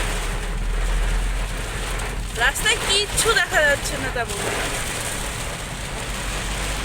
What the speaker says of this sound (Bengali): কি মুষালধারে বৃষ্টি পড়ে যাচ্ছে